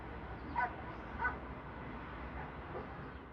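A dog during an attack on a young man in Kocasinan, Kayseri gives two short, faint yelping barks close together, followed by quieter background noise.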